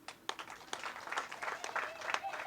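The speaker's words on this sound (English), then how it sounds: "all of us in the FDC should applaud him for" Scattered applause from a small audience at a party political gathering, sharp irregular claps rising and thickening into a steady patter, fairly quiet and slightly distant.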